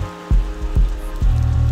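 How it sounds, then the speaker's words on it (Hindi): Heavy rain patters in the video game Little Nightmares 2, heard as a steady wash with a few low thumps standing out, loud and close, with no voices. "बारिश हो रही है तगड़ी"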